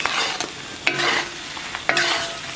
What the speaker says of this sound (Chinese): 接下来咱们把切好的葱姜干辣椒下到锅中